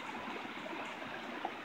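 Creek water flows steadily through Virginia woodland in a soft, continuous broadband rush, fairly quiet and even throughout, with no voices.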